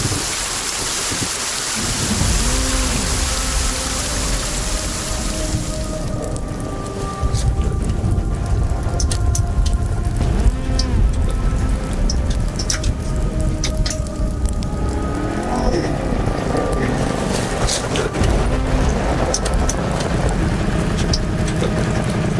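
Steady heavy rain pours down close by, a dense, continuous hiss with drops spattering on surfaces, while low thunder rumbles through and swells partway along; no one speaks over it.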